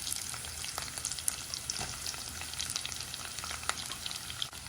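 Onions frying in a pan for ash gourd pickle give a steady, close sizzle with occasional stirring clicks and scrapes throughout, no voices.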